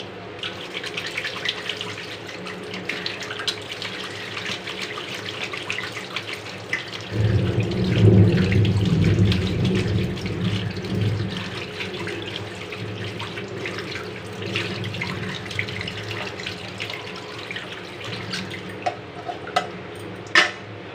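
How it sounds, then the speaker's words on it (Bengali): Kitchen tap running into a sink for hand washing, a steady splashing stream that grows louder and fuller midway, with small clinks and drips near the end. "হাতটা ধুয়ে"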